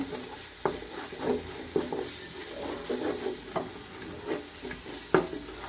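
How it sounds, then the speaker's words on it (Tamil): Onion-tomato mix frying with biryani masala for Dindigul-style biryani, a steady close sizzle broken by repeated spatula scrapes and stirring strokes roughly every second, with no voices. "நல்லா எல்லாம் சேர்ந்து கொஞ்சம் நேரம் நல்லா வதக்குவோம்."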